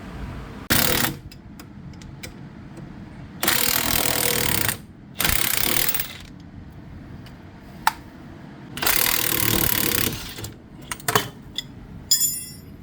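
An impact tool drives bolts to remove a rusted wheel hub bearing with a two-bolt method, firing in about five loud, close hammering bursts of one to two seconds, separated by quieter pauses with small clanks.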